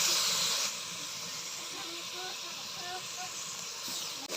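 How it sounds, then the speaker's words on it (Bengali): Spices fried in a pan with ginger-garlic paste, cumin paste, cinnamon paste and onion, a steady close hiss of sizzling oil that runs throughout, a little louder at the start. "মশলা ভাজা হয়ে গেছে"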